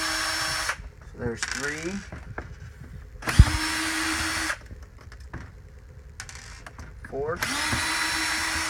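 A power drill backs screws out of a CycloMop drain housing in several short whirring bursts, each rising and winding down, while a man counts aloud between them.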